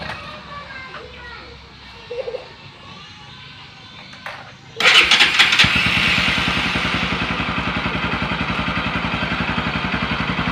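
A Bajaj Pulsar 200NS motorcycle with a dead headlight and speedometer is started after quiet voices and small clatter. Its engine catches abruptly and settles into a loud, steady, rapid idle pulse close by.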